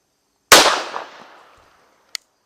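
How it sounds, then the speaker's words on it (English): A Military Armament Corporation MEUSOC pistol fires at a range, one loud sharp report with a long decaying echo, then a brief faint metallic click about a second and a half later; no voices. "I've got 3 rounds loaded into the pistol, so let's find out."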